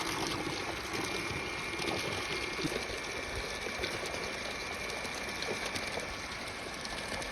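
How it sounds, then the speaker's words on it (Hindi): Water gushes steadily from a half-horsepower solar-powered pump motor, an even, continuous splashing flow that stays at a moderate level throughout. "देखिए अच्छा खासा पानी निकलता है हाफ HP के मोटर से"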